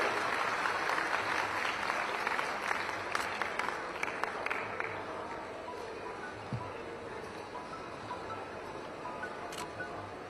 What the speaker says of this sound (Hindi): आप सभी की जोरदार तालियां चाहिए इस शुभ और विशेष अवसर के लिए